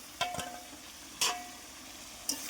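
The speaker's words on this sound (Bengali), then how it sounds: "এখন ভেজে নেওয়া আলুগুলো দিয়ে দিচ্ছি" Fried potatoes are stirred into a thick cooked spice masala, a soft low sizzle broken by three sharp spatula knocks against the pan.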